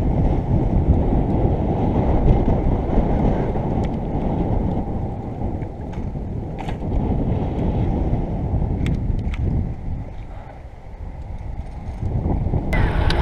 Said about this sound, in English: Dude, that's a stiff breeze.